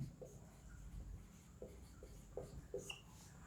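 A pen scratches across paper in short, faint strokes, each a soft brief rasp separated by small pauses, close up and quiet over a low steady background hiss.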